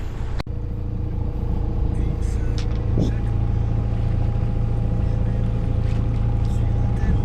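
A sailing boat passing through a channel among islands near Trinidad produces a steady low mechanical drone with broad rushing water and wind noise. It holds constant throughout, after a single sharp knock at the start.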